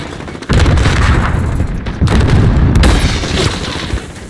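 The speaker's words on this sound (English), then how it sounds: "Fucking grenade." A grenade blast in a Call of Duty Modern Warfare Domination match on the Piccadilly map, a loud, close booming burst followed by a second rumbling hit and lingering gunfire-like crackle, with no speech.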